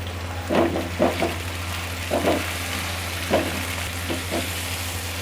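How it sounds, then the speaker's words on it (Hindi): Chicken frying in a pan for a bhindi chicken curry, seasoned with ginger garlic powder: a steady close sizzle broken by several bursts of stirring and scraping, over a constant low hum, with no talking. "अब चिकन फ्राई हो चुकी है"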